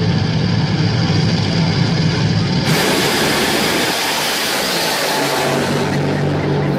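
A loud, roaring NHRA nitro funny car drag racing engine blasts continuously, a harsh dense howl that swells sharply partway through and stays intense to the end.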